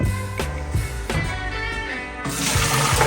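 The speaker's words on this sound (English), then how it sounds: "I'm gonna pour the beans back into the strainer." Soaked beans and their soaking water pour into a strainer, a steady close rush of water with a few bursts and splashes, growing louder near the end.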